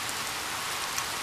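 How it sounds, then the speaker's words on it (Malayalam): Steady rain falls on a surface, an even hiss of dense droplets that stays constant and close throughout. "മഴ"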